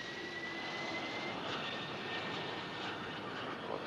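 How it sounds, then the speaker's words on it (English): Jet aircraft engines running up before takeoff, a loud, steady broadband roar with a faint high whine, continuous and close, with no talk over it. "All right, we'll run the engines up here."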